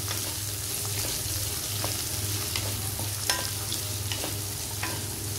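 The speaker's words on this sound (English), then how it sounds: "give it a quick stir." Roughly chopped onions sizzle in a hot pan as they are stirred, a steady close frying hiss punctuated by light scraping and clinking strokes over a low hum, with no voices.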